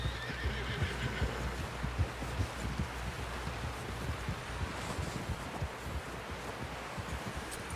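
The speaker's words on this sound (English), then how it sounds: "Someone help John down off this horse." A horse in a video game neighs and whinnies amid steady clip-clop footsteps and rustling, with a continuous outdoor ambience and wind behind it.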